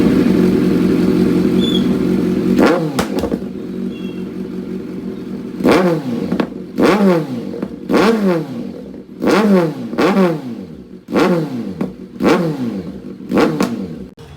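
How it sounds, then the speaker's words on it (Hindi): A superbike fitted with a titanium full-system header exhaust blips its engine again and again, sharp loud revs rising and falling in a quick rhythm over a low idle, close to the listener, with no talking. "चलो भाई एग्जॉस्ट नोट सुनाया जाए।"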